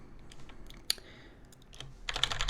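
Fingers type on a computer keyboard while working in a terminal, with quiet scattered key taps building to a quicker, louder burst of clicks at the end.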